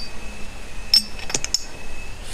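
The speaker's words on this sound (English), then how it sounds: "I have an amber cruet here. Who else loves that sound?" Amber glass cruet clinking, a few bright, ringing glassy taps close by, with a short cluster of clinks and a lingering high ring.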